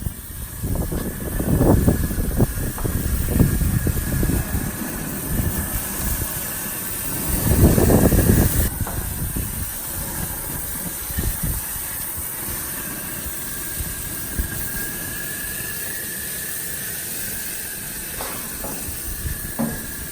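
Iraqi Adana kebab skewers on a grill set to high heat give a steady hiss and sizzle across the whole stretch, with swells of louder crackle and sputter, and no talk over it.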